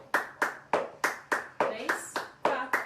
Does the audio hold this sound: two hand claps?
yes